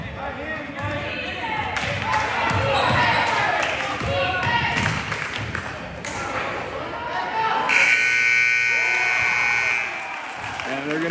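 A long, loud electronic buzzer ends the half at an 8th grade boys' basketball game, Hicksville vs. Ayersville, after a stretch of ball bounces, squeaks and crowd noise with commentary talk.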